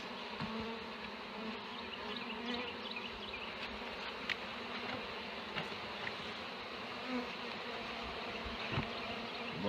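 Honeybees from a newly installed package swarm into a top-bar hive, a steady dense buzzing hum that fills the whole stretch at close range, with a few brief louder passes of individual bees.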